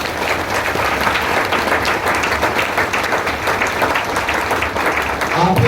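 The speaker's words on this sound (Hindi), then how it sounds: "मैं चाहूंगा अपने लिए एक बार ताली बजाएं" An audience at a core training session applauds for itself, a loud, continuous wash of many hands clapping that lasts the whole stretch, no voice standing out.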